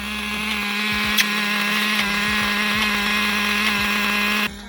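A Tmaxx 2.5 nitro RC truck engine runs at a steady, high-pitched buzzing idle with a strong whining drone and slight wavering in pitch, close and loud throughout, cutting off abruptly near the end.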